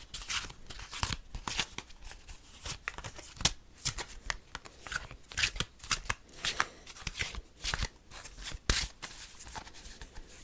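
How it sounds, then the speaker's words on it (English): Tarot cards are shuffled over and over in a soft-spoken ASMR healing session, giving dense, crisp riffling and slapping bursts that repeat in quick rhythm for the whole stretch, close to the microphone, with no talking. "I'm just going to keep shuffling until it feels right, basically."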